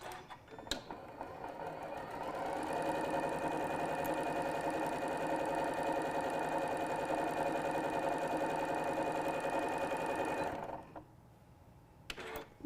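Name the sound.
sewing machine quilting strips onto batting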